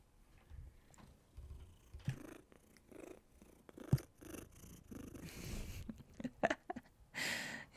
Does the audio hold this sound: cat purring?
yes